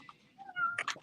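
A house cat gives a short, close meow, rising then breaking into a couple of quick chirpy bursts at the end, heard alone indoors.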